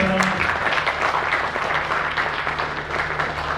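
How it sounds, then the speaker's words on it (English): A conference audience at a stakeholders event claps steadily in a dense, continuous wash of applause, fairly loud and even throughout, with no talk over it. "Let's take a clap for yourself."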